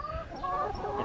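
Chickens gathered around on a UK family farm, clucking softly and continuously close by in a brief moment with no speech.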